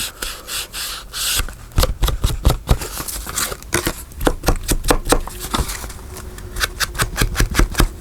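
Paper is creased back and forth while being folded into a tall accordion pocket for a journal, giving loud, close crinkling and sharp rustling in irregular bursts with quick crackles, and no one speaking.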